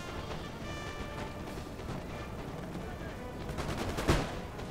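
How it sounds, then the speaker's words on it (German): Musket volleys crackle in a Napoleon: Total War battle at Waterloo, a dense ragged patter of distant gunfire that builds to a sharper burst near the end, with faint battle ambience. "Die schießen gleich sicherlich."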